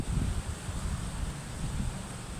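Strong gusting northeast monsoon wind at the seaside roaring against the microphone, low and rumbling with uneven surges, steady for the whole stretch, no voices.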